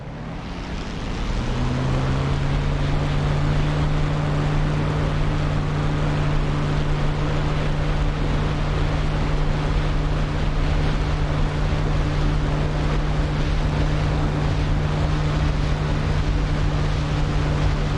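A propeller aircraft engine in a flight simulator game spooling up to full throttle for takeoff, a loud steady drone with a strong sustained hum that rises in over the first two seconds and then holds constant, no talking.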